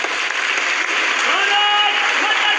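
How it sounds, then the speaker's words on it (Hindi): Loud, dense applause fills the hall at a large Sanatan religious gathering as a guest is welcomed, steady throughout with faint voices and tones mixed in. "एक बार जोरदार तालियों से स्वागत करेंगे।"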